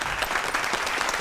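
A studio audience at a televised Kannada cinema quiz show breaks into loud, sustained applause, many hands clapping in a dense, even patter close by.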